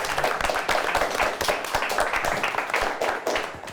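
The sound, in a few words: applause for the quiz teams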